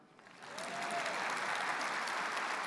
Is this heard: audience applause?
yes